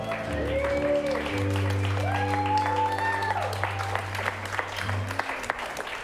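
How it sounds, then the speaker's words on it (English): An audience at an improv comedy show claps steadily throughout while a sustained musical chord and sliding tones play loudly over the applause. "Give a round of applause."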